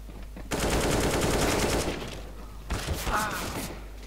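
Gunfire in the video game Counter-Strike: Global Offensive: a sustained burst of rapid shots with dense, noisy texture, followed by a second volley after a brief lull, heard alone without talk.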